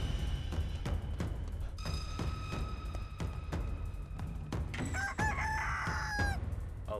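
Chicken in the Chicken Feet video game clucking with sharp rhythmic taps and footsteps, then a rooster crows loudly near the end, close and without talk.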